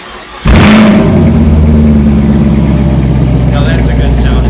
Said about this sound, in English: that power's got to come out somewhere, and that's through the exhaust